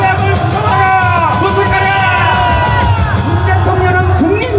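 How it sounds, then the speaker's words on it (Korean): Large crowd at an outdoor political rally giving a loud, sustained cheer, with many overlapping yells and whoops blending into a dense roar that holds steady throughout. "여러분, 큰 함성을 질러주세요."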